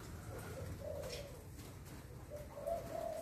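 A Thai spotted dove coos in soft, repeated low calls, fairly faint over a steady background hiss, with two short cooing phrases a little apart.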